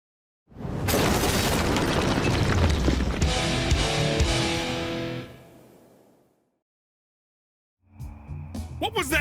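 A small explosion in the video game 3 Minutes to Midnight bursts loudly with a crashing boom, rumbles for several seconds and fades out, followed after a pause by voices talking.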